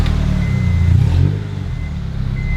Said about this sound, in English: small revs don't sound bad at all with a muffler delete